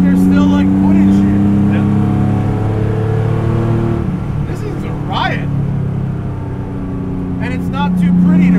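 Rat-rodded 1970 Porsche 911 with a 915 gearbox, its engine droning loudly and steadily throughout with a low throaty tone, easing off midway then building again near the end, while someone talks over it.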